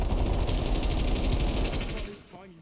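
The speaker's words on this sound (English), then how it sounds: "this PPSH goes heavy, I'm telling you" Sustained rapid automatic fire from a PPSh submachine gun in Black Ops Cold War on Nuketown, loud and close with a dense steady rattle for about two seconds before cutting off.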